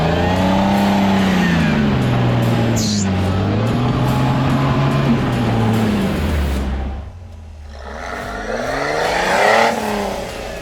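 The Trail Reaper off-road vehicle's engine drones and revs up and down on Moab slickrock, loud and close, with a brief dip before it climbs again.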